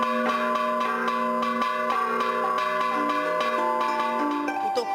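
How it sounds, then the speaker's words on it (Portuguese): Church bells ring at Nossa Senhora do Carmo church in historic Sabará, steady repeated strikes with long overlapping resonant tones filling the air continuously. "O tocar dos sinos na igreja de Nossa Senhora do Carmo, na histórica Sabará"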